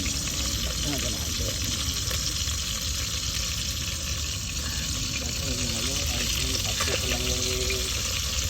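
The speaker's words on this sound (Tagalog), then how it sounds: "Pwede na prito yan oh." Steady sizzling and crackling of fresh catch frying in hot oil, continuous throughout, with occasional clinks and faint voices in the background.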